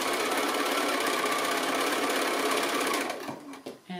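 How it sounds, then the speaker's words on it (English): Sewing machine stitching a quilt block along a long diagonal line, a loud continuous close whirring drone that slows and stops near the end. "I'm stitching right on that long diagonal line."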